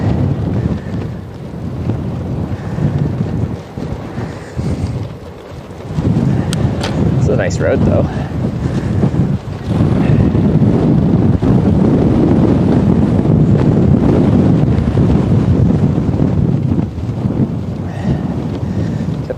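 Strong wind buffets a microphone outdoors beside a road, a steady loud rumbling roar that swells and drops throughout, while a person talks briefly under the gusts.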